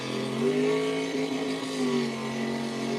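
A car engine revving hard against the rev limiter at a live car show event, a loud sustained droning roar with wavering pitch that holds steady and close throughout.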